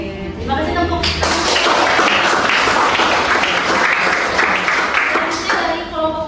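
A group in a classroom workshop bursts into applause after a presentation, a dense patter of clapping hands building quickly and holding steady for several seconds, with voices briefly heard at the start and end.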